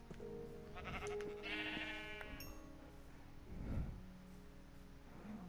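Sheep bleating in the Minecraft video game, several wavering bleats in a row over steady game background sounds, clear and fairly close.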